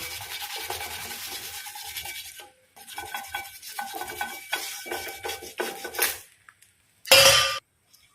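Oil rubbed across a hot dosa griddle, making scraping, rasping strokes in uneven bursts with short pauses and a sharp metallic scrape near the end.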